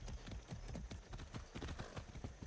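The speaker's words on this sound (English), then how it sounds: "We're gonna ride a horse." Horse hooves clip-clop at a steady, brisk gait in the video game Far Cry 6, a continuous run of close, evenly repeating hoofbeats with no talk over them.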